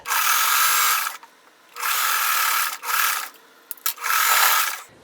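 A sewing machine stitches a quilt block in three bursts of steady, close, buzzing whir, with brief pauses and small handling clicks between runs.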